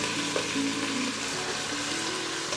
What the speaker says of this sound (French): Je vais continuer à tourner ensemble avec les crevettes.